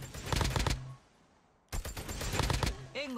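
Rapid automatic gunfire with thermite rounds in COD Mobile, two dense bursts of close, loud shots separated by a short pause, with a voice briefly heard at the end.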